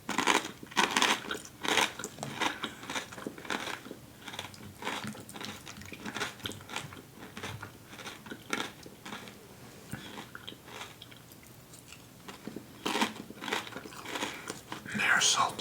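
Crunchy Fairway brand restaurant-style tortilla chips with a hint of lime, eaten with guacamole, crackle through repeated close bites and steady chewing, with soft whispery talk in between.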